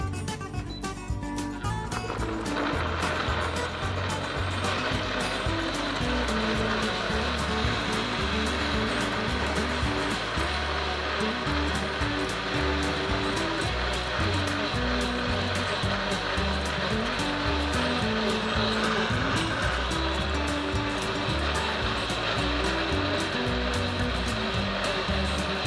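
A kitchen blender grinds ingredients for Sinaloa-style aguachile, giving a loud, continuous whirring roar that holds steady for the full stretch with no talking over it.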